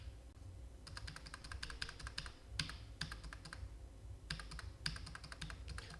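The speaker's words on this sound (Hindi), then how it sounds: "एंटर लगा के एक्सेप्ट कर देंगे।" Typing on a computer keyboard during accounting data entry, close rapid key clicks in two quick bursts separated by a short pause, with no talking.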